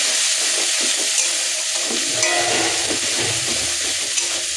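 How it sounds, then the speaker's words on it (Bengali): Roasted cumin, coriander and pepper spices, with chilli powder, stirred in a pan while cooking for Bengali katla kalia, a steady loud sizzle and hiss with soft scraping of the spoon throughout. "ভাজা মশলাটা ভালো করে নেড়ে নেব।"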